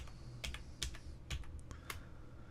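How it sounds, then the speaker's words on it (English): An Alt code is entered on a computer keyboard with a quick run of crisp key clicks, about a dozen taps in uneven rhythm, close and fairly quiet. "if you hold the Alt key down on your keyboard and type in"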